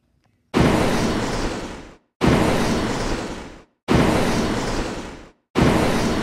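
Four explosions from toy-battle missiles arrive at an even pace, each a loud broadband blast that fades over more than a second before a brief silence, with no talk over them.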